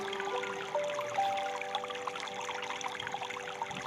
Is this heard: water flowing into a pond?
yes